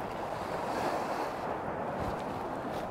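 Ocean waves breaking near the shore during night-time bass lure fishing, a continuous rushing wash with wind noise buffeting the microphone and no speech.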